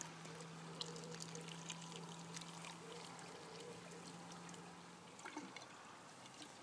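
A watering can pours water steadily into the holes at the top of a vertical planter box, producing a soft, continuous trickle and splash that carries on evenly without any talk.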